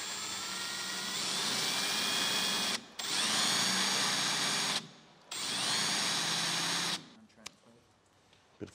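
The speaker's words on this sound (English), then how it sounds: "5 mil drill bit. The drill, and then you want to just send it" A power drill with a 5 mm bit whirs loudly and close in three long steady bursts separated by short pauses, followed by quiet clicks and handling noises.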